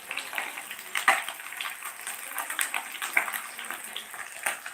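Fish frying in a pan, a soft, uneven sizzle with scattered small pops and crackles at moderate distance, fairly quiet.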